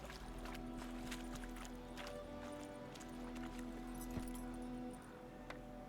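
Horse hooves clip-clop steadily along in The Witcher 3: Wild Hunt, a quick even beat under a low steady game ambience with a faint tonal hum.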